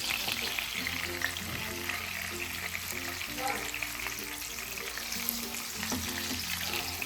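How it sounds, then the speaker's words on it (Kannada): Rava-coated bangda mackerel fries in a small amount of oil, giving a continuous crackling sizzle. Occasional scraping or stirring sounds come through, along with a faint low tonal hum in the background. "ಇನ್ನು 2 ಇತ್ತಲ್ಲ, ಅದು ನಾನು ಫ್ರೈ ಮಾಡ್ಕೊಳ್ತಾ ಇದ್ದೀನಿ"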